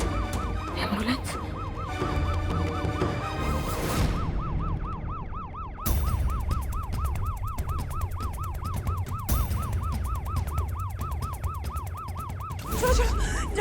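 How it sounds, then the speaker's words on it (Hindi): An ambulance siren wails in a steady rising-and-falling cycle, loud and close, through most of the stretch amid commotion, with a brief break partway through. "एम्बुलेंस।"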